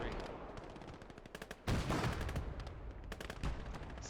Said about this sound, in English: So I got the 107mm artillery piece, which is very accurate.